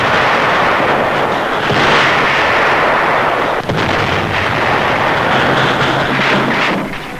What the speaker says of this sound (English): Tanks blaze the way.